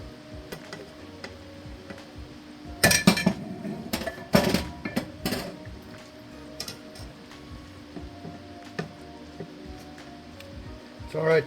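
Cooked shrimp, turned pink, being scooped out of a pan into a bowl for shrimp enchiladas: a few clustered metallic clinks and scrapes of utensil against pan, fairly close, with quieter gaps between.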